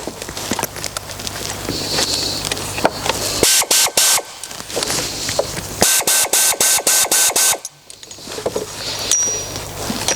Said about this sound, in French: On serre la pompe à eau. Alors on y va petit à petit, en croix.